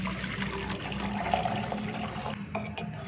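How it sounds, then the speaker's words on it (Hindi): About a litre of water is poured steadily into a bowl of katira gum for a rose sharbat, making a continuous splashing gush that drops off near the end. "इसमें भी 1 लीटर पानी ऐड करें।"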